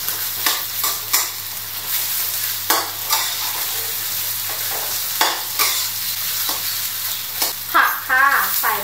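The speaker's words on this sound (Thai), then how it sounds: "ผัดให้ไข่แห้งนะคะ" Egg being stir-fried dry in a hot pan for Thai pad see ew, steady sizzling broken by repeated scraping spatula strokes, close and alone without talk.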